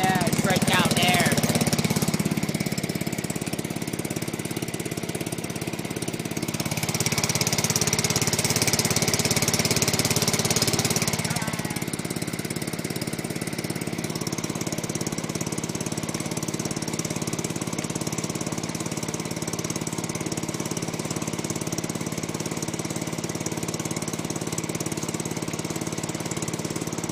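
A John Deere 210 lawn tractor engine runs steadily with a bad muffler, making a loud, rough, continuous mechanical drone throughout, with a brief change in tone early on.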